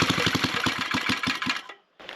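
A small motor being started, cranked and tuned toward a smoother idle, sputters in a fast uneven run of pulses and cuts out briefly before catching again, close and fairly loud with no talk.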